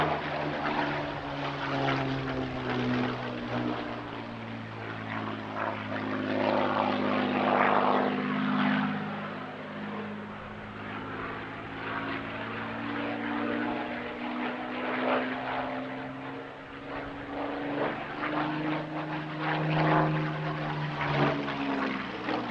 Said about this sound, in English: was painted in the colours of Spitfire Mark 9C Porky 2